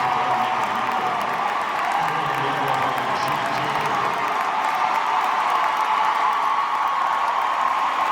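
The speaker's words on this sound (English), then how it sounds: "Taurasi received a standing ovation when she checked in during the final minutes." An arena crowd at a Phoenix Mercury WNBA game gives Diana Taurasi a standing ovation, a dense, sustained roar of cheering and applause with distant whoops.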